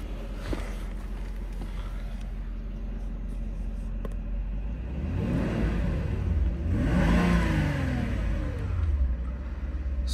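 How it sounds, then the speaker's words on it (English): A Mercedes SL500's engine idles, then revs up twice in rising and falling sweeps, heard close and moderately loud with a soft steady hum underneath. "Super, super smooth engine."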